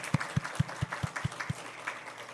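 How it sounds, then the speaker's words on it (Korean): A church congregation claps together in a quick, steady rhythm, roughly seven even beats in a row, fairly soft and a little distant, before the clapping trails off. "우리 기도의 마음을 담아서 큰 박수로"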